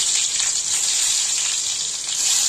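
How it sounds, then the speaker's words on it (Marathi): A steady, bright sizzle of garlic frying in hot oil in a kadhai, continuous and fairly close, with no talking. "2 चमचे तेल टाकलेले आहे कढईमध्ये। त्यामध्ये लसूण टाकत आहे।"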